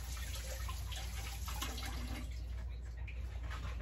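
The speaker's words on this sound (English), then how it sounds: "Let me just wash my hands." Water runs steadily from a kitchen tap during handwashing, a faint continuous hiss with no clear pauses.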